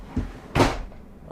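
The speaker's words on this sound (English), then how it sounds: "Oh, nope, that's the wrong drawer." A drawer opens close by with a short wooden slide and bump, preceded and followed by faint knocks, no talking.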